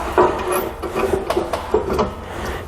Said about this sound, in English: So we'll just go ahead and thread these in now.